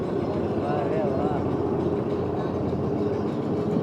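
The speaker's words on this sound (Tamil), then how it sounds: "பாருங்கள் எவ்வளோ அழகாக வருது ட்ரெயின்." The Kalka–Shimla toy train rolls past in steady, continuous low rumble with a broad wash of noise and faint tonal whines, heard at close range in a hill setting near Shimla while a person's voice is present.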